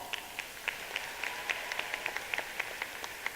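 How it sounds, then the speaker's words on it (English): Sparse, light applause at the 91st Georgia FFA Convention in 2019, a thin scattering of distinct claps over a soft hall background, fairly faint and uneven. "let's give this individual a big round of applause"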